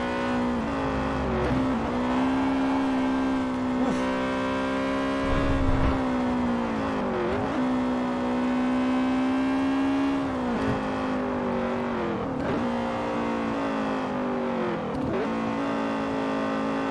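A 2007 Honda Civic Type-R in Forza Horizon 4 holds a steady, loud engine drone at high revs, with brief dips and rises around gear changes and a few sharper throttle blips, alone without talk.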